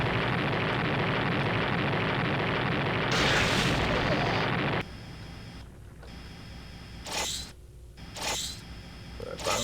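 A rocket explosion in the PC space-combat game Subspace/Continuum: a loud, dense noisy blast that fills the first five seconds and cuts off abruptly, followed by quieter ship hum with short bright bursts.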